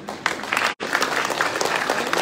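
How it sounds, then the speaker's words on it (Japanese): A crowd claps loudly and continuously as Miss International 2022 pageant contestants leave the stage in Niigata, with a thick, even wash of applause broken only by a split-second gap. "皆様どうぞ大きな拍手でお送りください。"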